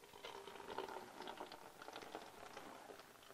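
Dirty water drains from an ultrasonic record cleaner tank through an opened valve, giving a faint continuous trickling and bubbling patter.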